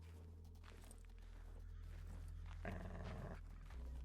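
A dog in the video game CONVRGENCE gives a low, rumbling growl, fairly close, with a harsher snarling burst near the end.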